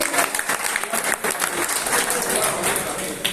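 Brief burst of crowd applause at an arm wrestling championship briefing in Lucknow, greeting the association secretary, steady and fairly loud with some voices mixed in.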